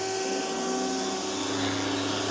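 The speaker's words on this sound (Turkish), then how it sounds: "Şuraya basarak derin dövücüyü çalıştırıyoruz." A vacuum cleaner runs with its deep beater switched on, a loud steady motor whine with sustained tonal hum throughout, no talking.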